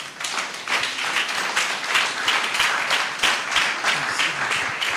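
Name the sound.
audience applause after a summit speech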